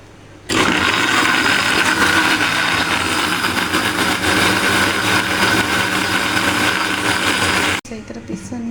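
A kitchen blender grinds ginger, garlic and tomato into a paste, a loud, steady motor whir that starts abruptly, runs for several seconds and cuts off, followed by someone speaking.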